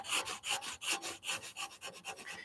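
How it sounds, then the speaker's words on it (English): 120-grit sandpaper rubs back and forth on the wooden body of a mini guitar kit in quick, even strokes, a soft rhythmic rasping up close with no voices. "I got a little piece of 120, which is the grit that I'm going to start at"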